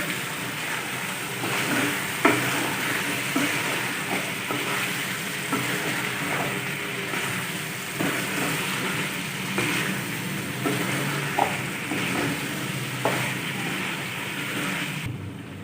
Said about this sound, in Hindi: तीन से 4 मिनट तक अच्छी तरह से फ्राई कर लेंगे।